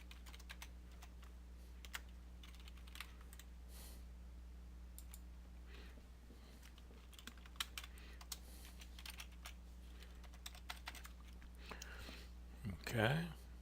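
Keystrokes on a computer keyboard while entering a unique ID into a Java database table, quiet irregular clicks in bursts over a steady low hum, with faint whispery breaths and a louder scuffle near the end.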